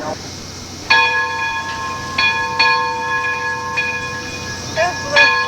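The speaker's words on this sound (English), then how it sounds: "That's the kids over ringing that bell." A bell rung by children at an outdoor family reunion, several clear ringing strikes at irregular intervals, moderately near, over a steady background of outdoor noise and faint voices.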